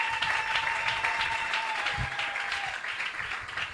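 A church congregation applauding together during a sermon, steady sustained clapping from many hands with a faint tone running underneath.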